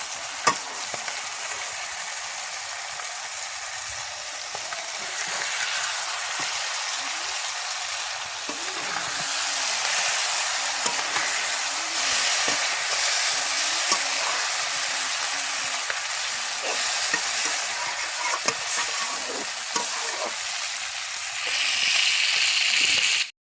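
Puti fish curry with onions cooks in a pan with a steady sizzle and bubbling hiss. Faint stirring noises come and go over the top, and no one speaks.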